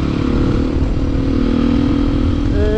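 Steady, loud, close engine drone of a supermoto motorcycle fitted with an Akrapovic exhaust, holding a constant throttle with a slight rise in pitch at the end.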